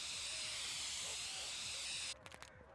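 A steady hiss of spray paint in the Drug Dealer Simulator video game as a building is painted, lasting about two seconds before cutting off into a few faint clicks.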